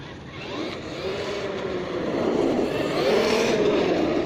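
A Hobao Hyper MT Sport Plus RC monster truck drives with its steering fixed and suspension tuned. Its motor whirs steadily and grows gradually louder, with a rising and falling electric whine as the throttle changes.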